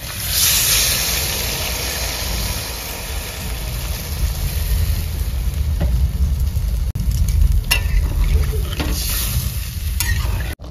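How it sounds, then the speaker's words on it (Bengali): Potatoes already sautéed for Bengali aloo dum sizzle and bubble in a pan as water goes in, a steady loud hiss with occasional stirring clatter close up. "আলু কষানো হয়ে গেছে, আমি জল দিয়ে দেবো"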